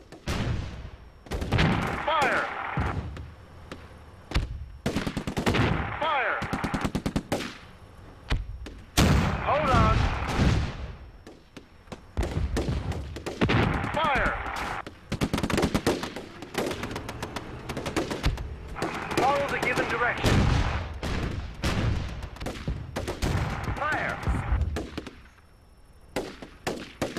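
Repeated bursts of gunfire from a World War II battle in the strategy game Theatre of War 2, set in Africa in 1943, arriving in loud clustered volleys with brief gaps throughout, while voices call out in the mix.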